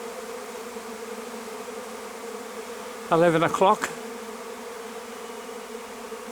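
A swarm of bees outdoors produces a steady, continuous drone throughout, moderately loud and layered, while someone briefly speaks partway through over the buzzing.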